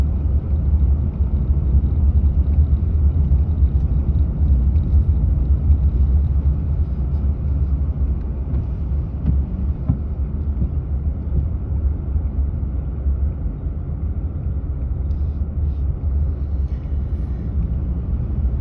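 Interior rumble of a car driving along a rural road cut in 1968, a loud, constant low drone with wind buffeting and no breaks.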